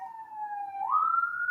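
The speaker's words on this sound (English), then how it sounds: "Let's wait for the sirens to go past." A single wailing police siren passing by, steady then rising in pitch, fairly clear and prominent with no talking.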